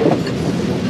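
The Blue Train passenger train runs on rails in South Africa, giving a steady, loud rumbling roll with a faint clatter of wheels and no voices.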